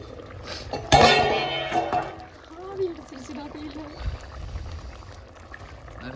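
Squid gravy steams in a pot after boiling, a soft bubbling and clink of cookware with a louder clatter near the start, while someone talks over it.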